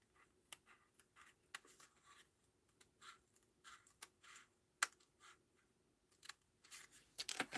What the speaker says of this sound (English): If it's not cut all the way through, I'm just going to stab it with my scissors.